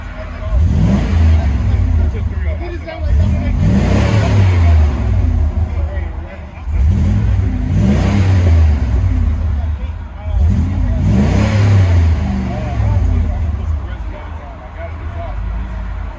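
A 1998 Chevy Suburban with a 5.7L V8, X-pipe and Borla Pro-XS true dual exhaust revs repeatedly as heard from the cabin, with four or five rising, swelling engine pulls over a constant loud low rumble.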